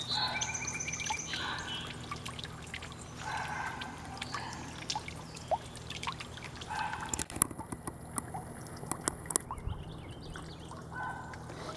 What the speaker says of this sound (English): hopefully you can hear these beautiful birds that are singing to us.